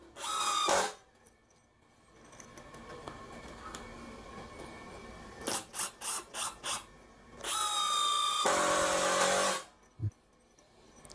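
A Makita TD112D 12-volt impact driver drives screws into meranti wood in short bursts: a loud whirring run, a series of quick rapid hammering pulses, then another sustained loud burst, with quiet gaps between.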